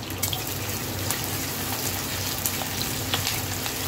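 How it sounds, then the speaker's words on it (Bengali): Onions frying in mustard oil with a little ghee, a dense continuous sizzle with scattered crackles and pops close by and no speech. "নুনটা এর মধ্যে দিয়েই ভাজা স্টার্ট করে দিয়েছি আমি"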